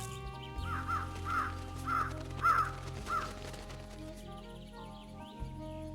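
Crows caw in the video game Truberbrook, five or six harsh calls in a rough rhythm over a low ambient music bed, followed by a quieter stretch.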